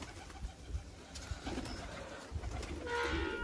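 Domestic pigeons around their loft, with soft cooing and faint wing and foot movements, steady ambient noise with occasional low thumps, and no talking.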